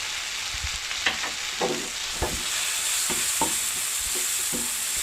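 Grated coconut with turmeric is stirred and sautéed in a sizzling pan, a steady frying hiss broken by repeated scraping strokes of the spoon, close and with no talk.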